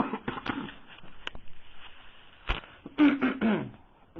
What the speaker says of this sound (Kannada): ಕೆಮ್ಮು ಬಂದ್ಬಿಟ್ಟಿದೆ ಯಾಕೋ ಇದ್ದಕ್ಕಿದ್ದಾಗೆ